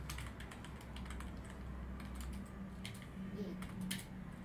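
Typing on a computer keyboard during a Japanese talk radio broadcast: quick, irregular key clicks, fairly close, over a low hum with faint background sound.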